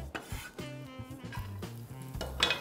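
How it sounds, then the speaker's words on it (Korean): Celery and green onion stir-fried in leftover oil in a pan after cooking eggs, with soft sizzling under clattering utensil scrapes and stirring knocks close by. "샐러리하고 파를 넣어서 향을 살짝 올려주시고요"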